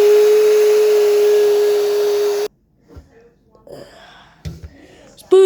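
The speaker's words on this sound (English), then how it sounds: "Okay, Patrick, say hi to this hair dryer" A hair dryer blows with a loud, steady whine for about two and a half seconds, then switches off, leaving quiet breathing, gasps and small vocal sounds up close.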